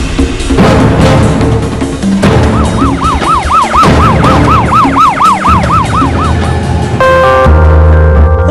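An ambulance siren from a Ziqitza Health Care fleet in India wails loudly in a rapid rising-and-falling pattern, repeating over several seconds above a dense, busy background of traffic and other sound.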